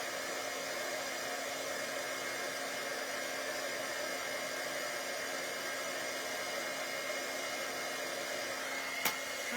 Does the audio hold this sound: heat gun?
yes